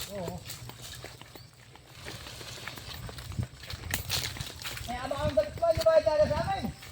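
A horse walks on a coconut farm, its hooves clip-clopping steadily at close range while people talk over it and a brief whinny-like tone rises near the end.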